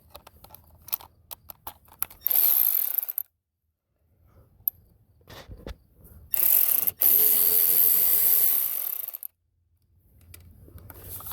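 A ratchet with an 8mm socket works loose the VTS trim rod on a 1995 Sea-Doo XP 800, giving close, loud bursts of rapid clicking in several separate runs with quiet handling noise between them and no talk.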